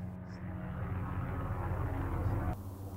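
Helicopter engine droning nearby during a wild burro roundup, a steady rumbling hum that swells and then drops off abruptly as it moves away.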